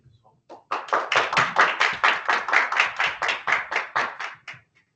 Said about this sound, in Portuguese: solicitar que tu uma salva de palmas aí, pessoal